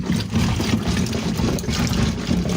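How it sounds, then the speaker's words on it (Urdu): Arvi (taro root) is rinsed and swished in water in a kitchen. A continuous wash of splashing, trickling water runs steadily throughout this short stretch, close by and with no talking. "اس کو اب 2-3 پانی اچھے سے دھو لینا ہے"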